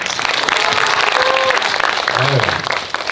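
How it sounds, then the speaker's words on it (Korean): Cinema audience in Daegu applauds during a stage greeting for a film, a loud, dense burst of clapping with voices and cheering mixed through it. "박수도 제일 크고"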